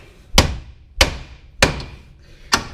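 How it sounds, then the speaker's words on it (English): Four sharp, evenly spaced hammer taps strike a car wheel hub taper to loosen it, each a close metallic knock that fades quickly, with quiet between hits. "we can just give that a few taps over there to unhinge or loosen up that taper"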